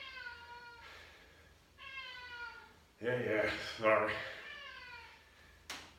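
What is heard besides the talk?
angry cat meowing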